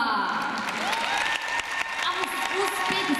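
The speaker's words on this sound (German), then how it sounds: "Und damit einen donnernden Applaus" Loud, sustained applause from a crowd at a rhythmic gymnastics competition in Berlin, continuous dense clapping with some cheering, and an announcer's voice over it.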